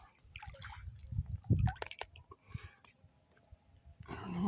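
Hot spring water at a desert soaking pool drains away in wet drips and small trickling splashes, with a burst of sloshing near the middle and more water noise building at the end.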